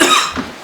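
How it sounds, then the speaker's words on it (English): A single short, sharp human cough close to the microphone, one burst with a brief trailing rasp. "I'm gonna start having a coughing match because I got a tickle"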